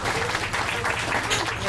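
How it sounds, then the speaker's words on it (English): An audience at an outdoor book event claps for the authors, a dense burst of applause with a voice speaking over it, fairly close and loud throughout. "a very, very a heartfelt round of applause for our authors"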